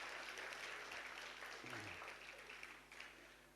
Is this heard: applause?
yes